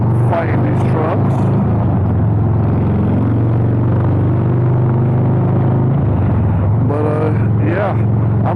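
A motorcycle cruises at highway speed among trucks, its steady engine drone and wind rumble constant and loud throughout, with a rider talking over it near the start and again toward the end.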